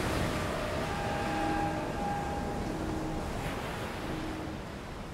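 A storm at Saint-Malo with northerly gusts near 90 km/h brings a constant roar of wind and surging waves, loud and unbroken, with faint tonal whistles riding over the rushing noise.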